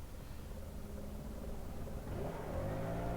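A council worker runs a leaf blower over a gravel path in winter, its motor droning loudly and steadily nearby, rising slightly in pitch and force toward the end.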